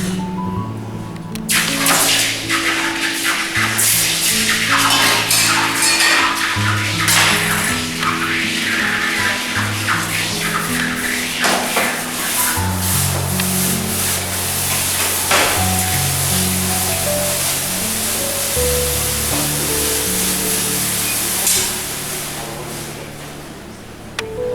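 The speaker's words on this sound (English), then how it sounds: "we're going to do that by placing the gold into this stuff of water" Hot molten gold is plunged into water and gives off a long, steady, loud hiss and sizzle, with crackling bursts over a low droning hum. The sound holds for about twenty seconds before easing slightly.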